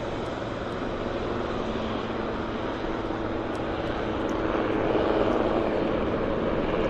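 Air Canada passenger jet landing at Vancouver Airport, a steady broadband engine roar that holds throughout and swells slightly near the end, with no talk.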